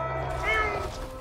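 A cat, a purebred gone feral outdoors, gives a single drawn-out meow at mid-distance over a low steady hum.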